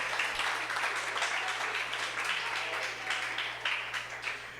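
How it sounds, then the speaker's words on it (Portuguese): Steady applause from a crowd at a poetry reading, dense and continuous, at moderate distance with no break across the whole stretch. "Uma salva de palmas para o André, por favor."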